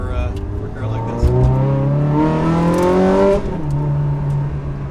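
A Ferrari 360 Challenge Stradale engine revs up steadily, pitch climbing for a few seconds before dropping back to a lower idle drone, close by.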